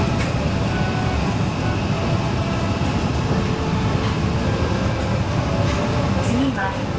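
A Tokyo subway train on the Hibiya Line at Kasumigaseki station makes a loud, steady rumble and roar, with people talking under the continuous rolling noise.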